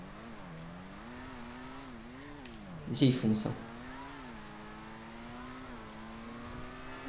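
A custom new supersport car from the GTA 5 Casino DLC drives along with a steady engine drone that rises and dips in pitch, a brief loud burst partway through, and someone talking in French over it.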